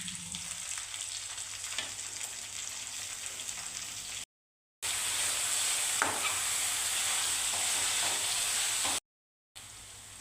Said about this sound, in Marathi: आता हा कांदा 2 मिनिटं परतून घ्यायचा आहे, हलकासा असा